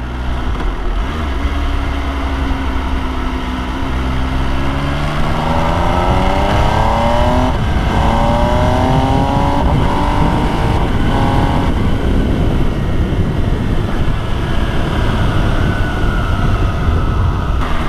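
MV Agusta Brutale 800 motorcycle engine revs hard and climbs through rising pitch sweeps under steady loud road and wind noise, with no talking.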